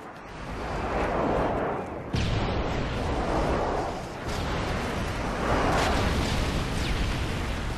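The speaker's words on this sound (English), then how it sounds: "Enemy airstrike approaching." Airstrike explosions in the video game Modern Warfare 3, a series of deep, rumbling booms rolling one after another, each swelling and fading into a continuous heavy roar, loud and close.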